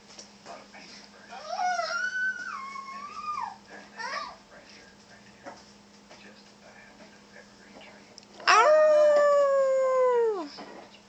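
A young child imitates a wolf, giving wavering, rising and falling howls: a longer warbling howl early, short vocal bits between, then a loud sustained howl near the end, close to the microphone in a quiet room with a faint steady hum.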